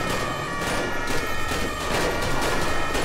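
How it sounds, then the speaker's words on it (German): Gunfire aimed at police officers in the video game GTA 5 rattles as a dense, loud fusillade of overlapping shots, sustained throughout with no pauses. "Die beschießen ja die Kollegen."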